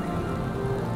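Steady rain falls on a rainy morning, a brief, even, close hiss of drops with no voices.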